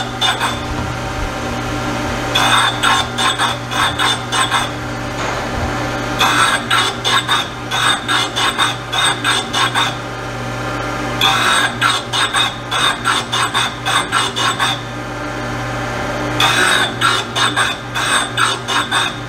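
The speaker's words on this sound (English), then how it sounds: "We're going to touch and we're going to dial up and cut about 4 thousandths off of each cap" Machine cutting a few thousandths off Ford 351 Cleveland main bearing caps, loud rhythmic rasping passes in repeated bursts over a steady machine hum, with no talking.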